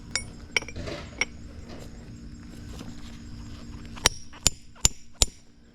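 Hammer and chisel scoring a large geode: several sharp metallic clinks, a few spaced early on and then a quicker cluster of four near the end, over quiet room noise.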